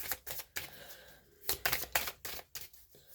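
Playing cards handled from a deck as one is drawn, a series of crisp papery snaps and flicks in uneven bursts, close up and alone without talk.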